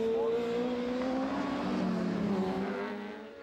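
A superbike racing motorcycle at the Cookstown 100 road race passes another rider, its engine a loud sustained high-revving drone that shifts pitch as it goes by, then fades slightly at the end.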